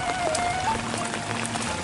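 Steady rain falls over a rural Sundanese village with rice paddies and flowing water, a dense, even patter of drops on surfaces throughout with no voices.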